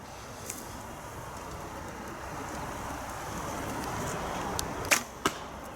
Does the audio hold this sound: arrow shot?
yes